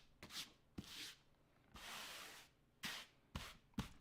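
Short rasping strokes of sanding or filing bevel the edges of armor elbow pieces, coming as close, quiet scrapes separated by brief pauses, with one longer rubbing pass in the middle.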